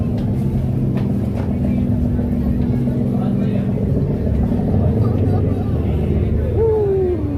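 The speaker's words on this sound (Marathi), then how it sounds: "आज आपण फर्स्ट टाईम नाईट बोट रायडिंग करत आहोत" A boat motors through the night off Mumbai, its engine a steady, loud low drone that runs unbroken under a busy wash of water and wind, with voices chatting faintly in the background.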